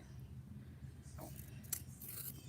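Non-stick scissors trim excess from an adhesive foil sheet, giving faint crisp snips and a light papery rustle over a low steady hum, quiet and close.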